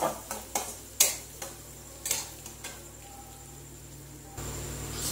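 Lentils (dal) being fried in a pan, a series of sharp spoon clicks and scrapes against the pan over a faint sizzle, growing to a louder hiss near the end.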